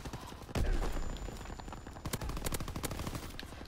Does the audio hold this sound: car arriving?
no